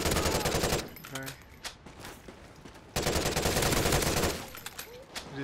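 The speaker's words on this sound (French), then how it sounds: "J'ai tiré au travers de la planche." Video game gunfire shot through a wooden plank, with two long bursts of rapid automatic fire separated by a short gap and a few scattered single shots, loud and close.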